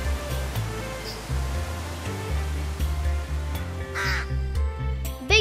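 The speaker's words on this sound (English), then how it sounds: "Big bird just landed on top of the hut." A large bird lands on a hut roof in the jungle and gives a few harsh caws over steady rushing rain, with a busy layered background of water noise.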